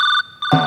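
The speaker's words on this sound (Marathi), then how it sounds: "बहिणीचा फोन आहे." A phone rings with an incoming call on a comedy stage set, a short bright electronic ringtone tone that cuts out briefly and returns, heard alone.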